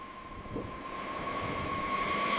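A B-52 bomber taxiing on an airfield taxiway, a steady droning jet engine roar with a high whine that builds slightly in loudness, heard alone without voices.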